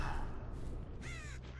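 Crows cawing in Dead by Daylight, a couple of short harsh caws near the end over a low rumbling ambience, with no talking.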